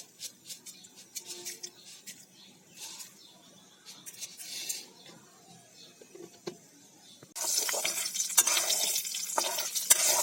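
Panch phoron spices crackle in hot oil for khichuri, first a low irregular sizzle with clinks, then a sudden loud dense hiss that builds and holds steady to the end.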